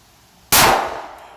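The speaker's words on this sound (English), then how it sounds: "I'm going to come up and I am going to shoot at that dueling tree all over again." One sharp gunshot cracks nearby and strikes a steel plate on a dueling tree target, leaving a bright metallic ring that fades over about a second.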